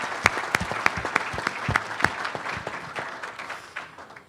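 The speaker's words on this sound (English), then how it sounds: "Give everyone a round of applause." An audience at an annual meeting applauds, with several sharp, distinct claps at first that blur into a steady patter of applause, then fade out over a few seconds.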